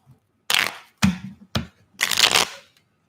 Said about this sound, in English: Let's shuffle this one first.